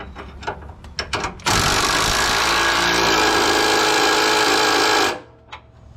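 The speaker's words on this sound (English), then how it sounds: "last thing I've got to tighten up is this sway bar" A power tool whirs loudly and continuously for several seconds while tightening sway bar bolts on a Jeep Grand Cherokee WJ, after a few sharp clicks, then cuts off abruptly.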